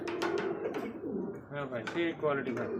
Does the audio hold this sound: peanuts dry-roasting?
no